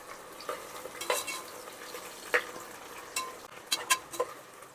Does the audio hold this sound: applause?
no